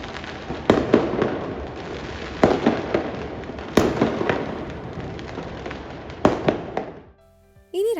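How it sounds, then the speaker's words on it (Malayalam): Fireworks and firecrackers bursting on New Year's Eve, seen from a balcony: repeated sharp cracks and booms over a steady crackling backdrop, with a few louder bangs standing out, ending in a brief lull. "ഞങ്ങളുടെ ബാൽക്കണിയിൽ നിന്ന് പടക്കം പൊട്ടുന്നതൊക്കെ കാണാൻ പറ്റിയിട്ടോ."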